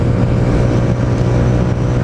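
A Honda Titan motorcycle engine pulling up a hill in cold weather, a steady low droning hum with constant load, loud and close under wind rush, no talking.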